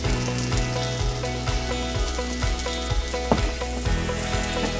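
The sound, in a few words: mushrooms sauteing in oil in a pan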